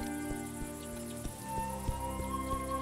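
Crickets chirping in the video game A Juggler's Tale, a steady insect chorus sitting under a soft ambient background and light musical tones, continuous throughout.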